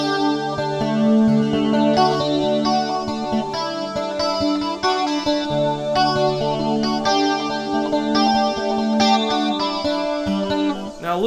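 A 12-string guitar is strummed and picked through a rack compressor, chorus, hall reverb and detune, giving a shimmering, wide, chiming sound. It plays continuously for over ten seconds with no talking.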